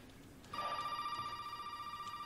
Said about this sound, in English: There's a phone here.